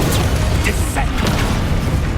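Descendo spell effect in the video game Hogwarts Legacy: a dense, loud burst of magical impact with a deep rumbling boom and crackling noise filling the short moment, close and continuous, alongside a voiced spell incantation.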